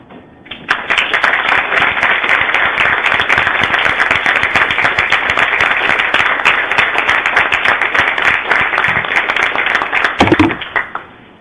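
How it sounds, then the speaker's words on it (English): Sustained applause from a lecture audience welcoming a nuclear power pioneer to the podium, dense steady clapping lasting about ten seconds before tapering off abruptly. "it is a privilege for me to introduce you, present to you, Dr. Alvin Weinberg."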